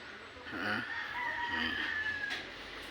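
A backyard rooster (stag) crows once, loud and close, in a long drawn-out call lasting about two seconds over quiet morning surroundings.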